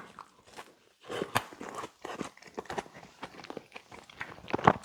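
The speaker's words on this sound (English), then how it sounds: "Let's have this other Doritos cheesy gordita crunch." Crunchy bites and chewing of a Taco Bell Doritos Cheesy Gordita Crunch, with repeated close, crackly bursts in an uneven rhythm and brief pauses between mouthfuls.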